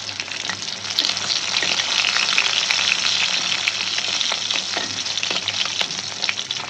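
Fresh rui fish fries in hot oil with a steady, loud, dense sizzle and crackle that runs without a break, broken by small spits and pops from the pan.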